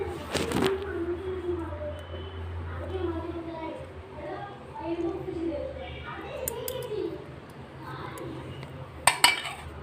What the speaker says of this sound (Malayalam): ഇതെല്ലാം കൂടി നമുക്കൊന്ന് കുഴച്ചെടുക്കാം കേട്ടോ, എല്ലാം കൂടി നന്നായിട്ടൊന്ന് കുഴച്ചെടുക്കാം